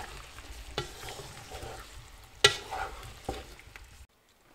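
Meatball mixture with spices and mustard stirred in a pan, a steady soft sizzle beneath scraping strokes and a few sharper clinks of the utensil, close up, ending in sudden silence.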